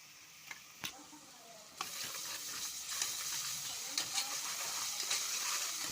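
Wet masala and onion paste fry in a pan for a country chicken curry. A few clanks of the spoon come first, then a sustained close sizzle sets in, broken by intermittent stirring scrapes.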